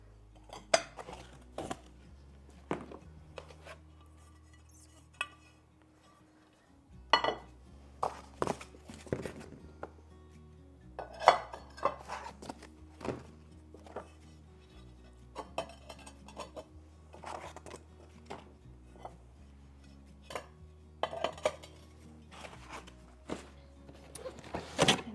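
Ceramic dinner plates and bowls from Walmart handled on a hard surface, giving sharp, close clinks and clatters scattered irregularly across a quiet room, with a soft low hum underneath.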